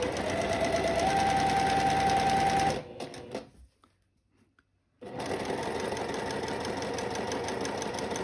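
A sewing machine running steadily as it stitches a seam on a floral sundress at a long stitch length, a loud, even mechanical whir that stops for about two seconds of near silence and then starts up again.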